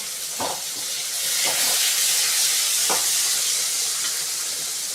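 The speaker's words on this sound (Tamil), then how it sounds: "வெங்காயம் நல்லா வதங்கிட்ட உடனே கட் பண்ணி வச்சுருக்க தக்காளி போட்டு வதக்கிக்கலாம்" Tomatoes and onions sauté in a pan for fish curry, a steady bright sizzle and hiss with a few soft stirring knocks, close and continuous.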